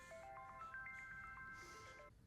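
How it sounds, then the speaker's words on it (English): A phone ringtone chimes a bright, repeating melodic tune for about two seconds over faint background noise, with no talking. "ringtone."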